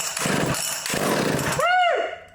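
A small chainsaw is latched on high idle and starts, with rough pulling and sputtering engine bursts followed by a rising engine whine near the end.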